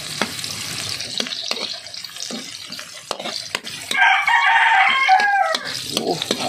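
A rooster crows loudly and nearby in a single long call, with scattered clucks and sharp clicks around it in an otherwise quiet kitchen-like setting.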